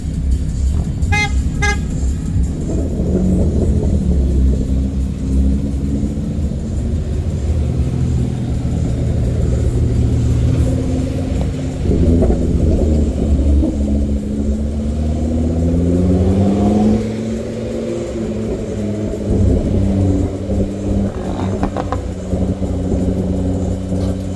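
Many Ford cars, including a Focus ST, arrive and drive into Silverstone circuit on a race day, with engines rumbling and revving close by, horns tooting in a quick burst early on, and continuous traffic noise throughout.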